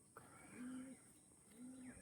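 Pigeons cooing in a loft kept for sale, two soft low coos under a faint steady hiss and scattered background noise.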